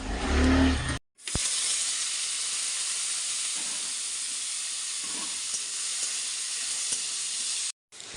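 Okra and potato fry in hot oil with nigella seeds, a loud steady sizzle that runs unbroken for several seconds, then cuts off abruptly near the end.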